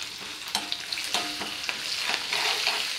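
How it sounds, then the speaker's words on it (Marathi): Lentils, chili, grated ginger, cashew and almond pieces frying in hot oil as a tempering for Kanchipuram idli, a steady close sizzle with occasional stirring clinks and pops. "छान तळून घ्यायच्या आहेत ह्या डाळी।"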